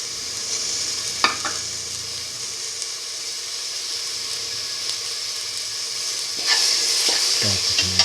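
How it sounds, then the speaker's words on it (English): Tomato pieces sizzling and frying in a pan with a lentil and fenugreek mixture, a steady bright hiss broken by a few scraping stirs of a spoon. "now put in the tomato pieces"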